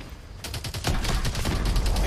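Video game battle gunfire from an Advanced Warfare-style firefight: a rapid string of sharp shots that starts softer, then grows louder and denser into a sustained automatic volley nearby.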